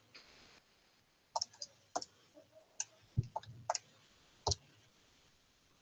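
Keys pressed on a calculator keypad, a scattered series of about a dozen sharp, close clicks and taps in an irregular rhythm, with quiet gaps between presses.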